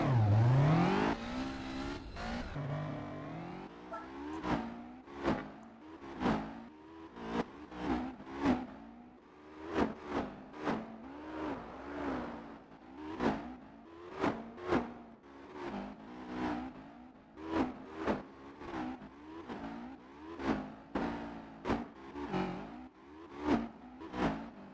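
A race car in Gran Turismo 4 repeatedly revs its engine high, rising and falling in quick successive pulls with gear-change dips, loud and close, continuing steadily with no voices.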